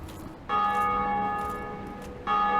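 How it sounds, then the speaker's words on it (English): Bell rung by a player in the Dark Souls video game, two clear metallic tolls with a sustained ringing tone, the second strike starting just before the end, fairly quiet and alone. "Anytime you've heard a bell ring up until this point of the game, is not just a random thing."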